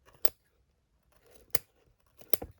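Scissors snip through old book pages and binding threads at a craft desk, three sharp crisp cuts spaced apart, close and clear with quiet pauses between.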